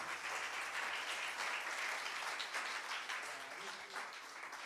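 A church congregation applauding during a sermon about the cross of Christ, a sustained, even roar of many hands clapping at moderate distance, with faint voices mixed in.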